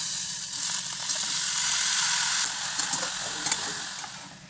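Pumpkin pieces with turmeric, green chili, garlic and spices fry in a pan, giving a steady close sizzle that swells midway, while a few sharp scrapes and taps from the stirring spoon break through near the end.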